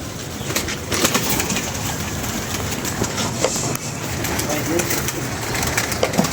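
An old pet pigeon coos amid a busy flock, soft repeated calls blended into a dense, noisy background with a person talking nearby.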